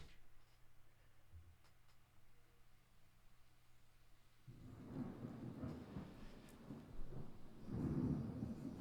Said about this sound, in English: The storm's approached.